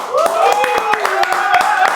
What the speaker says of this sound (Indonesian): Kita sambut bersama tepuk tangannya.